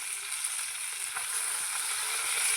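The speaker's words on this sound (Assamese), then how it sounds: "বৰ্তমান মাছখিনি ফ্ৰাই কৰি লৈ অলপ সৰু কেৰাহীতে" Fish frying in a small, blackened kadai over twenty years old gives a steady, close, even sizzle with faint crackles throughout, and nobody talks.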